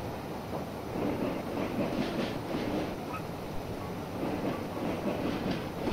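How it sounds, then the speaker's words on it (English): A train rolls past on the tracks, its wheels giving a steady, continuous rumble with faint clickety-clack, moderately loud and close throughout. "Hey, there's another train!"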